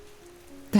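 Steady, soft rain ambience hisses faintly in the background of a cozy night-in scene, with a brief louder rustling burst right at the end.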